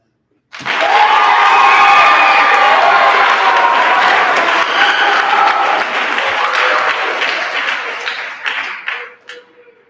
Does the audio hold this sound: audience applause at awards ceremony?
yes